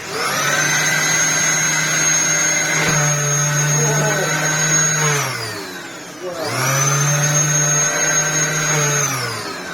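A restored Dyson DC07 vacuum cleaner running loudly with a steady high motor whine, cutting off around the middle, winding down, then starting up again at full speed.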